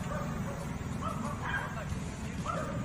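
A dog yips and barks a few times, fairly faint and distant, over a busy background of people talking.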